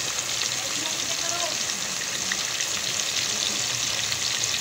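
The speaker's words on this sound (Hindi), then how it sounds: "चले अब इसे थोड़ा डीप फ्राई होने देते हैं" Chapli kababs deep frying in hot oil, a continuous bubbling sizzle that holds steady and fairly quiet throughout.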